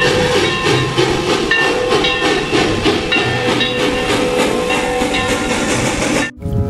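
A toy train runs steadily nearby, a continuous whirring, clattering rattle with faint whistle-like tones, stopping abruptly near the end.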